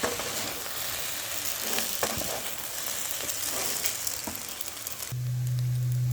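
Vegetables and chow mein stir-fried with soy sauce, a steady sizzle in the pan with scattered crackles and scrapes of stirring, medium-close and continuous, joined near the end by a low steady hum.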